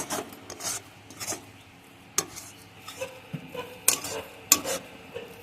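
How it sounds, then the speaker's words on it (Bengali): Chhana (fresh cottage cheese) being stirred nonstop in a kadai as it dries, giving repeated rasping scrapes and soft knocks of the spoon against the pan, close and fairly quiet with no talking. "আর এইভাবে কিন্তু অনবরত নাড়তেই থাকতে হবে, নাহলে কিন্তু কড়াতে ধরে যাবে"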